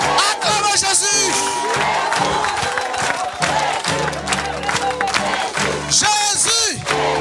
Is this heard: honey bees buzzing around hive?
no